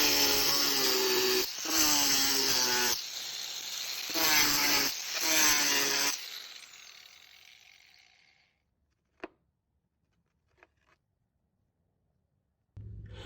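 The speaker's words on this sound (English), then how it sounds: "flip her over so we can finish the cuts on the back with a grinder" Angle grinder cutting ceramic backsplash tile from the back side, a loud, harsh whine in several bursts over the first six seconds, then winding down and falling nearly silent, with a couple of faint clicks.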